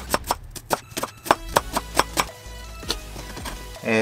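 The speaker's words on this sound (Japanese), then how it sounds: "続いて玉ねぎを切っていきます。" A knife slices an onion on a cutting board in quick, uneven strokes, each a sharp crisp tap, close and clear with no talking.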